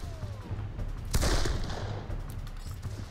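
A sniper musket fires once in the video game Darkest of Days, a sharp, loud crack with a rumbling tail in the middle of the moment, over a low, steady game backdrop.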